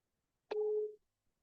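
A single short telephone tone after a call cuts off, a clean steady beep lasting about half a second, alone in silence.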